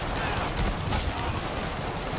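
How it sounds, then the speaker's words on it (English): Dense, sustained gunfire from the Spider-Man video game, a continuous roar of rapid shots like a fusillade, loud and unbroken for about two seconds. "We're totally pinned down by gunfire!"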